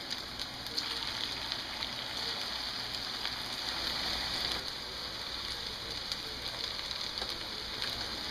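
Homemade potato tots frying in a pan give off a steady, dense sizzle like light rain that runs unbroken for the whole stretch, with no talking.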